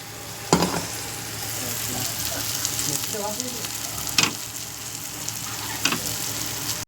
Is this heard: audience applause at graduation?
no